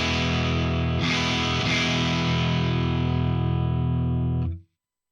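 Electric guitar through an amplifier on the Crunchy Clean preset, set at the edge of breakup, ringing a sustained lightly distorted chord with a second strum after a second, then cut off abruptly.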